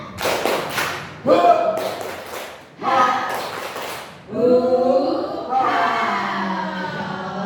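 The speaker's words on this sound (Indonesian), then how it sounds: "Tapi sebelumnya kita tepuk semangat dulu ya." A group at a school positive-culture training session performs a rhythmic clap-and-chant, with sharp bursts of clapping alternating with voices chanting together in unison.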